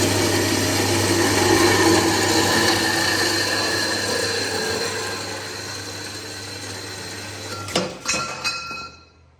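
A power tool grinds steadily and loudly through a metal leg for a shed stand, its tone drifting down as the cut nears its end, then stopping with a few clinks and rattles.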